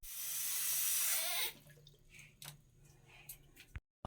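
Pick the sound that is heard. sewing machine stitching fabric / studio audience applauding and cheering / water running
water running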